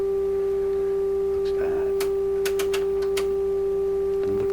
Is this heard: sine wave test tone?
yes